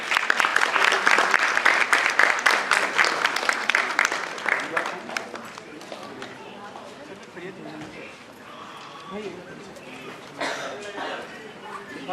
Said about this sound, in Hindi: दीपाली दीदी के लिए जोरदार तालियां हो जाएं।